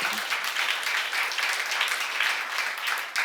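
A church congregation at a seminar breaks into dense, continuous applause, many hands clapping together in a steady wash from start to finish.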